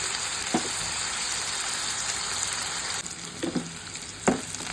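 Finely chopped potatoes frying in a pan, an even sizzling hiss interrupted by a few soft stirring knocks, with a brief dip in level partway through.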